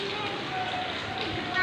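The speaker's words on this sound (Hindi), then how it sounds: "ये बारिश हो रही है" Heavy rain falling outdoors in Bahawalpur, a steady dense wash of patter and hiss throughout, with a voice talking over it.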